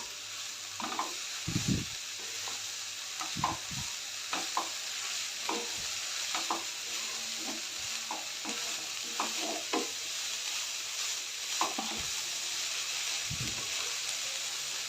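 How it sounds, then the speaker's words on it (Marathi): Grated amla (Indian gooseberry) sautés in a pan, giving a steady sizzle with intermittent scraping stir strokes from a spatula. The strokes are close and regular across the whole stretch, and no one speaks. "आता हा खीस चांगला परतून घेऊया आपण"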